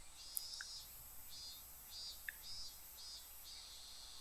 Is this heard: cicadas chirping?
yes